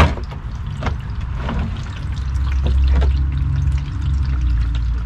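Used engine oil drains steadily from a Jeep Wrangler during an oil change, a loud continuous pouring gush with a few splashy drips, close by and without talk.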